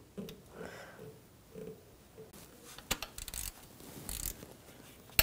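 Screw on a 2000-2006 BMW X5 3.0L inline-six crankshaft position sensor tightened with a ratcheting tool, a run of short mechanical clicks and rubs close by with no talking.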